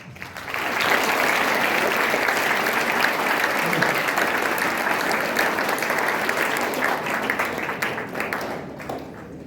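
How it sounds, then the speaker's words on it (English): Audience of children applauding themselves after a school debate event, a loud, dense burst of clapping that swells in at the start and holds steady for several seconds before thinning slightly near the end. "Applaud for yourself."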